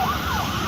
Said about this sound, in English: Ambulance with sirens blaring seen leaving the Caddo County Detention Center